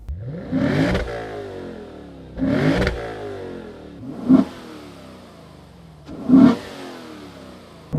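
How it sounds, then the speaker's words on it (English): A 5.0L V8 engine in a 2022 Lexus IS 500 revs four times in sharp bursts, each roar rising and falling back to a low idle between pulls. "this engine sounds really good."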